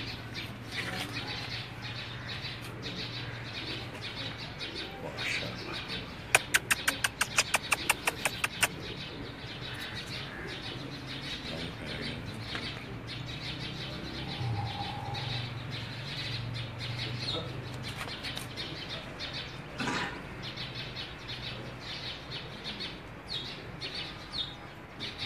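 Two gifted pigeons, newly paired, give faint chirps and calls on a rooftop with a quick burst of wing flapping early on, under steady outdoor background noise and occasional voices.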